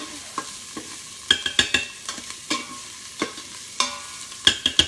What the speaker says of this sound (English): So I let that saute until it gets kind of a little bit brown